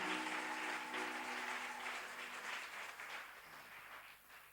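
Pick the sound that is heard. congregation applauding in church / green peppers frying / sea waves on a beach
congregation applauding in church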